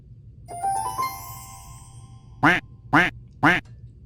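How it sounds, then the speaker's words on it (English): A duck gives three loud, evenly spaced quacks up close, following a short ringing chime-like intro tone. "A duck says, quack, quack, quack, quack"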